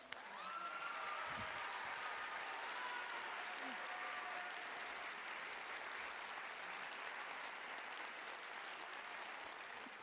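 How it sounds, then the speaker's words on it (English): An audience at a nursing school commencement gives a long, steady round of applause, dense clapping filling the whole stretch with a few faint voices underneath. "And at this point, we can clap."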